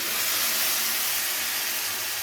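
Tomato paste hits frying ginger-garlic-chilli paste in hot oil, giving a loud, steady, close hissing sizzle with no voices.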